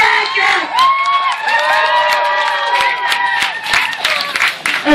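Crowd applause and cheering with whoops fill the room after a card magic trick at a live horror-comedy stage show, a loud, steady wash of clapping and shouting voices that continues throughout.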